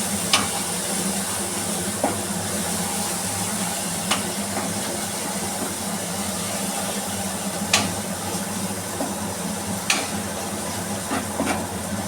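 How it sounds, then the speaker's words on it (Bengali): Fish masala with tomato sauce being stirred in a hot pan, a steady close sizzle and hiss with occasional sharp scrapes of the spoon against the pan, no talking. "একটু টমেটো সস, এবার ভালো করে নাড়াচাড়া করবো"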